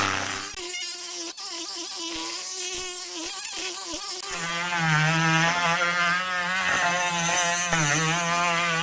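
High-pitched whine of a Tork Craft mini grinder sanding edges, running continuously, its tone dropping and steadying partway through as the surface smooths out, close and fairly loud.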